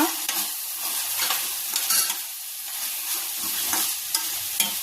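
Vegetables with chilli powder, turmeric, coriander powder and salt stirred in a pan for vegetable biryani: a steady close sizzle with repeated scraping strokes of the spoon, alone with no voices.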